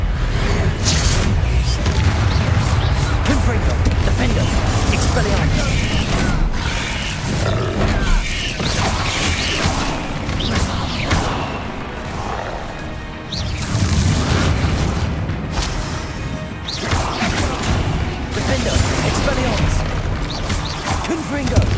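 Confringo explosive spells in the Hogwarts Legacy video game: repeated loud booming blasts and crashes amid roaring creature cries and combat noise, heavy and close throughout, with a voice shouting spell names over it.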